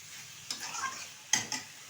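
Spice paste for dried Loitta fish curry being stir-fried in a pan, a soft sizzle under a few quick scraping stirs of a spoon, close and without talk.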